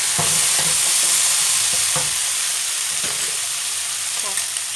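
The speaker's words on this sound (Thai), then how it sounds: "ผัดไปเรื่อยๆนะคะจนหอม" Pork belly stir-fried with seasoning in a pan: a loud continuous sizzle with intermittent soft scraping strokes of the spatula, steady throughout.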